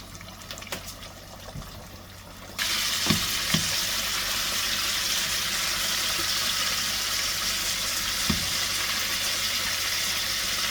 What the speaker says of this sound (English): get the last of the fish in the grease